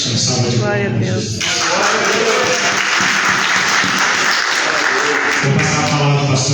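Church congregation applauding, a dense, loud burst of clapping from many hands that rises quickly and holds steady, with voices mixed in.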